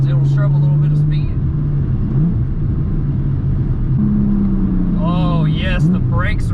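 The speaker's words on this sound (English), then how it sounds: "Oh, the car sounds fantastic. Sounds so good, and it just takes the turns." A Porsche Cayman 718 GTS 4.0 drives through turns, its engine a steady loud drone that rises and falls with throttle, while someone talks over it almost throughout.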